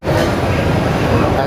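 A broken-down train comes to a stop, giving a loud, steady rumbling roar of rail cars with a broadband hiss, continuous and close for the whole moment.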